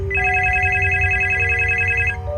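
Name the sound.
landline telephone ringing in kitchen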